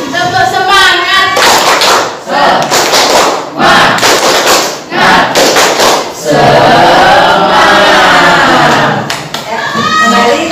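Students in an Indonesian teacher-training class do a patterned cheer clap, repeated loud bursts of clapping and thumps mixed with group chanting, close and energetic throughout.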